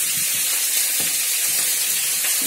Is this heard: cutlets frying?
yes